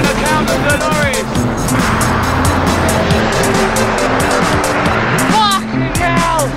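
Heavy lorries rolling past on a road near Lincoln, a steady loud roar of engines and tyres close by, with a cyclist's voice speaking over the start and end.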